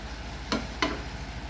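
Big prawns frying in a garlic tempering: a steady sizzle underneath three brief, sharp stirring clacks spaced irregularly, close and moderately loud, with nobody speaking.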